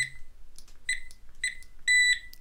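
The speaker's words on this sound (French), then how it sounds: "Vous avez ce petit bip que vous avez entendu, en fait c'est pour vous dire que la sensibilité est à fond" A Garrett or Nokta metal detector pinpointer at maximum sensitivity gives a series of short, high-pitched beeps, the last one held a bit longer, close and fairly quiet.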